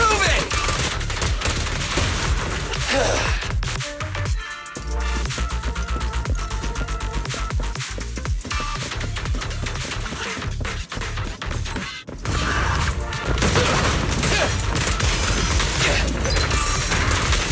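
Gunfire in the video game Zenless Zone Zero comes as loud, dense bursts of rapid shots mixed with crashes, impacts and mechanical clanks over game music, with brief lulls around the middle.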